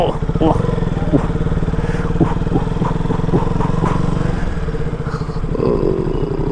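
A KTM RC 200 motorcycle accelerates onto an Indian highway, its engine a steady, loud, pulsing drone heard onboard, with wind noise and a voice talking over it.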